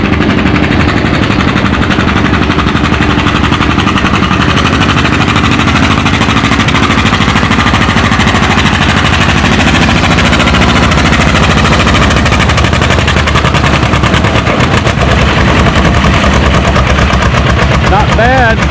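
Big John Deere pulling tractor in the 8 mph class at a spring tractor pull in Othello, roaring loud and continuous at full power for the whole stretch, a harsh rapid pounding exhaust with a rising tone near the end.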